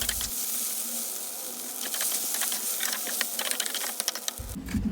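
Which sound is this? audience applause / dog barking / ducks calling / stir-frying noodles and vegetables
stir-frying noodles and vegetables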